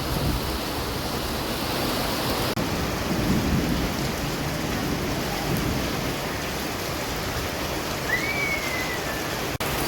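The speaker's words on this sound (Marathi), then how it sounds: "आता अचानक हा पाऊस आला आहे" Heavy rain pours down steadily in a dense, continuous roar, close and loud throughout, with a faint brief whine near the end.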